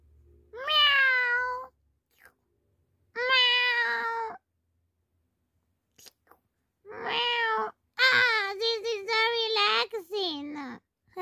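A voice imitates a cat, giving several drawn-out meows separated by pauses, then a rapid run of meow-like cries near the end, loud and close.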